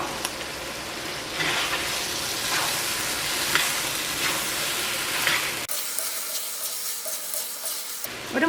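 Chilli chicken, the pieces already fried, stir-fried in sauce over high heat, giving a steady loud sizzle with scraping stirs and a brief quieter stretch near the end; no talking.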